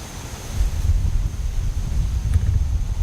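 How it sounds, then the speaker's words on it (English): Wind buffets the microphone outdoors during a deer hunt at dusk, a steady low rumbling roar throughout with no voices. "It's windy."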